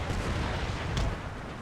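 Cannon artillery fire in the Empire Total War battle game rumbles continuously as a dense, distant-sounding barrage, with a slightly sharper blast standing out briefly midway through.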